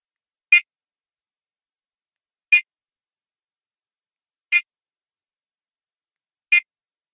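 A HeartMate 2 LVAD controller sounds its warning alarm: four short, identical electronic beeps spaced evenly about two seconds apart, clear and alone against silence.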